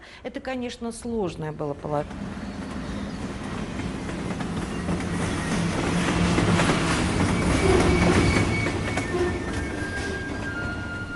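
A train rolls past on the rails with a loud, continuous rumble and rhythmic clickety-clack that swells toward the middle, following a brief spoken voice at the start.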